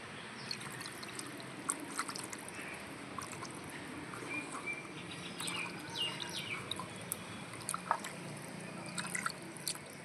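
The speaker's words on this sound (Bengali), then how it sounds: "আর এই সরাটা ধুয়েই পরিমাণ মতন জল দিয়ে দেবো।" Water poured into a rinsed clay dish for a shol fish curry cooked in banana leaf, a soft steady trickle outdoors with birds chirping in the background.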